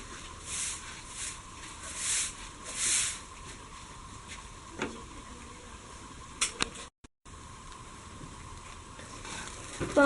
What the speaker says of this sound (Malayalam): ഇത് നന്നായിട്ട് ഇങ്ങനെ ഇളക്കി കൊടുക്കുക.